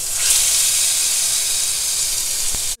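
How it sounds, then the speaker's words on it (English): Salmon pieces frying in a pan at low heat, giving a steady, close, bright sizzle with a constant hissing texture that holds evenly throughout and cuts off abruptly at the end, with no talking. "I'm going to fry it now."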